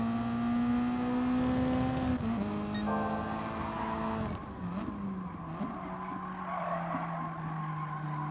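Toyota S-FR Racing Concept race car in Gran Turismo at Tsukuba, engine droning loudly with a steady high whine, shifting pitch as it accelerates, tires skidding and squealing through corners; no talking.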